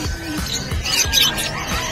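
Birds, including conures, squawk and chirp at a busy pet market in Bocaue, loud overlapping calls and scratchy cries filling the air close by.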